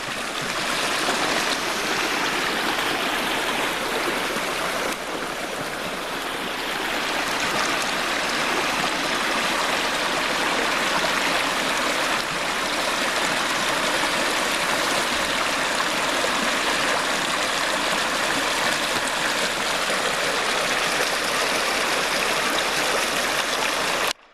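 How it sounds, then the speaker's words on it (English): Creek water flows steadily at a campout, a dense continuous rushing and gurgling close by with no talk over it. "Cross over the creek here."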